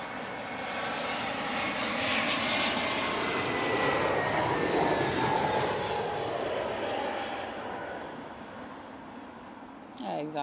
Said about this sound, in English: we can never get away from a Logan Air ATR 72